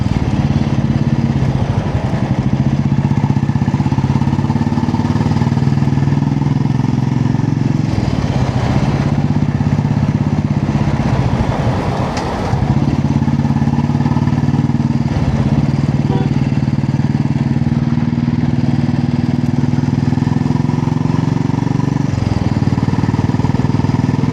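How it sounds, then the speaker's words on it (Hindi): An Indori motorcycle exhaust burbles steadily at idle, a deep, loud, continuous rumble with a few brief throttle blips along the way. "अभी आप बस ये सुनते रहिए बाइक का जो मधुर"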